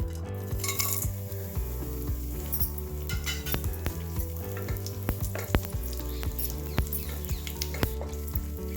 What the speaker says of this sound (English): This all whole garam masala will go into this hot oil.